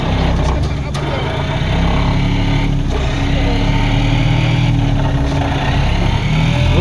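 Vibro hammer pulling a giant pipe back out of the ground at a construction site: a loud, steady, droning engine roar with heavy vibration, continuous and close throughout.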